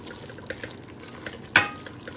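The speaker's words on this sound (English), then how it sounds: "I'm gonna add some water, okay guys?" Water is tipped into a cooking pan with a sudden sharp splash and hiss, following soft drips and light stirring clicks in a quiet kitchen.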